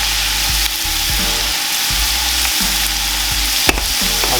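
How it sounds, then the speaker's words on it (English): Bacon and onions frying in a pan, a steady close sizzle with a few soft stirring scrapes and one sharp clatter near the end. "crisp your bacon, then add your onions, and then start coloring the onions up"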